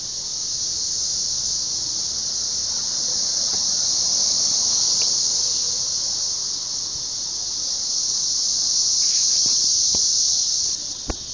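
Dense swarm of cicadas in Nashville, a loud continuous high-pitched buzzing drone that never lets up, with a few faint clicks underneath.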